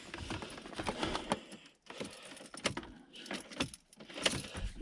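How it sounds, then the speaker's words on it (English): Keys jangle and scrape as an ignition key is inserted and turned in a 2003 Volvo XC90, close-up clicking and rattling bursts with brief pauses, no engine starting. "So I'll just turn the ignition on."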